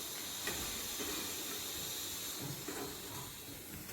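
Colocasia leaf vadis (aluvadi) frying in hot oil, giving a steady, faint sizzling hiss with a few soft pops, no voices.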